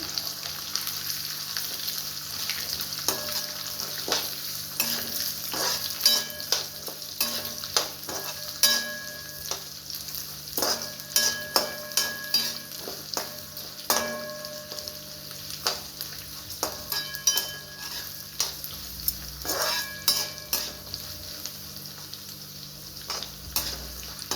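Carrots and beans frying in oil for masala upma, a continuous close sizzle broken by frequent spatula scrapes and taps against the pan at an uneven rhythm, with no talking.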